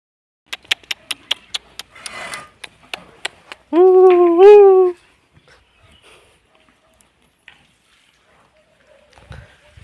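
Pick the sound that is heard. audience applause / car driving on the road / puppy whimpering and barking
puppy whimpering and barking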